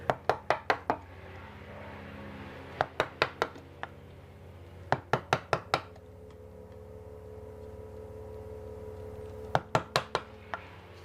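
Wood chisel chopping out a dovetail on a dressing table side: sharp mallet-driven knocks in quick clusters of three to five, crisp and close, separated by quiet pauses.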